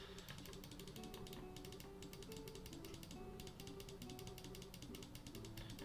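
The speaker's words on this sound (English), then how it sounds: "as the sound of my repetitive clicking fills your ears" Rapid, evenly spaced button clicks in a speedrun of The Legend of Heroes: Trails in the Sky SC tick along in quick bursts over soft background music, quiet throughout.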